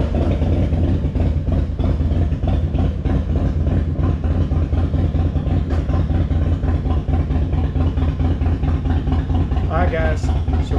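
A motorcycle engine idles steadily and loud throughout, a low rumble with a brief sharper rise near the end.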